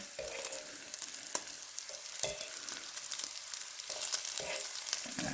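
Long bacon strips frying in a pan, a constant soft crackling sizzle with sharp pops and spatters scattered throughout, fairly quiet and without talk.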